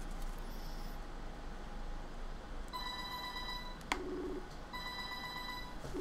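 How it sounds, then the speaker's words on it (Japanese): Telephone ringing with an incoming call, steady electronic ring tones repeating in two bursts over low background hiss, fairly faint and with no talk. "ちょっと電話取って、電話取って。 かかってきた。"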